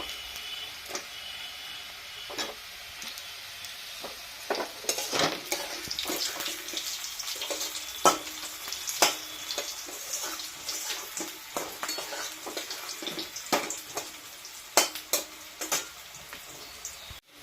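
Potato pieces added to onions already fried in a pan on a home stove sizzle softly, with irregular crackles and pops over a low, steady hiss, and no voices.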